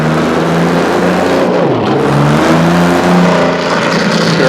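A turbocharged race car engine revs loud and close on a victory lap, a steady roaring drone with rising and falling pitch from throttle changes.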